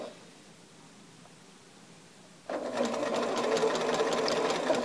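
A sewing machine stitches fabric along a curve for a quilt block. It starts abruptly after a quiet stretch, then runs in a steady, close, continuous whir.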